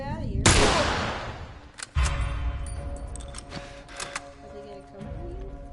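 A loud gunshot opens a firefight in The Last of Us, and a second blast follows about a second and a half later. Sharp clicks and metallic rattles come after, and voices can be heard faintly underneath.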